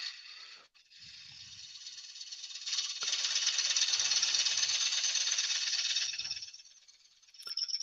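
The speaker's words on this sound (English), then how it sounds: "So I'm just forming the mortise now." A hand tool cuts a mortise in spalted beech turning on a wood lathe, giving a close, rasping, buzzy scrape that swells, cuts out briefly and rises again in uneven passes.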